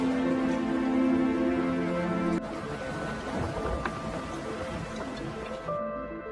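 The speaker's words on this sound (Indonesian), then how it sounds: "mereka pun dihadapkan dengan badai laut yang cukup ganas" Storm at sea, with rain pattering and distant thunder over a droning tonal background that shifts partway, a steady, moderately loud wash heard without talk.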